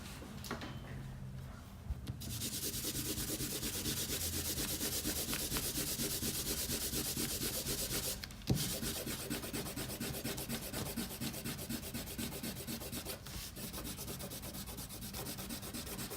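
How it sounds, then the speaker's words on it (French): An eraser rubs pencil construction lines off drawing paper after the ink has dried: a continuous close scrubbing and rasping that runs almost the whole time, with a brief pause partway through. "On peut attendre un peu que l'encre sèche et gommer les traits de construction."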